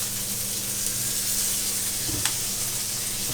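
A tablespoon of oil sizzles steadily in a pan while Thai fried rice is being made, a close, continuous hiss with a brief clink of a utensil partway through and no talking.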